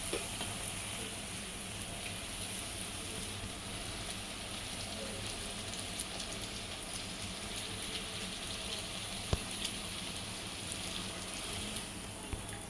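Karanji pastries deep-frying in hot oil, a steady, even sizzle and bubbling that holds throughout with no talking.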